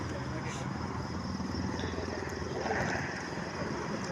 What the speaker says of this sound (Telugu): ఈ విధంగా అయితే ట్రాక్టర్తో కరిగేట్లో అయితే కొట్టడం జరుగుతుంది